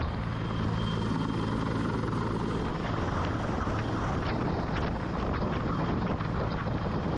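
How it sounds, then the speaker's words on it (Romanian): Rescue helicopter on a flood operation lifting people from rooftops, its rotor and engine roaring loud and steady throughout with wind buffeting, no voices. "elicopterele au fost ridicate de la sol de zeci de ori pentru a-i ajuta pe sinistrații"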